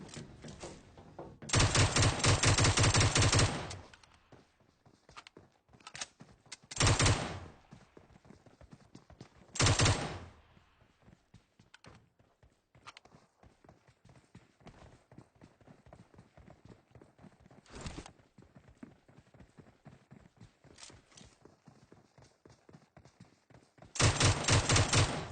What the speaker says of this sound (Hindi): ये इंडियन स्क्वाड उतर रहा था और हमारी हो जाती इनसे गन फाइट